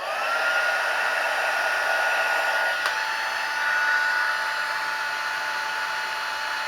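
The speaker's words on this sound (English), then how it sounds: "Go back to my heat tool." A heat tool blows with a steady, loud whooshing hum held close while it melts a rubber stamp impression into a candle, never pausing, and one faint tick sounds partway through.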